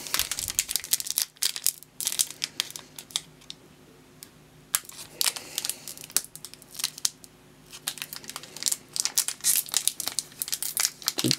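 A trading card pack wrapper crinkles and tears in bursts, close and crisp, with quiet pauses between the handling sounds.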